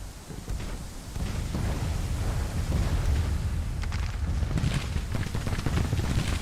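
Dense, continuous rumbling musket volleys from three entrenched brigades in a Civil War battle in the game Grand Tactician, with sharper crackling bursts near the middle and end, steady and loud with no talking.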